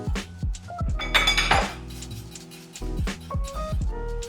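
Water chestnuts go into a pot of dissolved rock sugar syrup and starch batter, giving sharp clinks and clatters of metal utensils against the pot, loud and close, with a stirring scrape between strikes.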